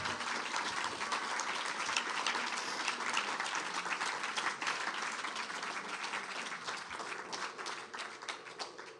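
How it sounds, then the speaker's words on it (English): A faculty presentation audience applauds after the talk, a sustained, even roar of many hands clapping at moderate distance, continuing without pause and tapering slightly toward the end. "Let's have another round of applause."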